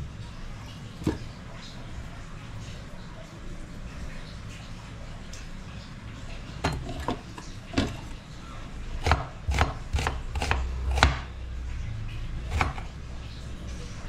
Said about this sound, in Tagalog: Iwain ko na lang muna itong sibuyas.